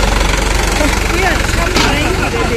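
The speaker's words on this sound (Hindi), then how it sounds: "ट्रैक्टर आ रहा है" A tractor engine runs at a steady, throbbing idle close by on a farm, its low rumble continuous throughout while voices talk over it.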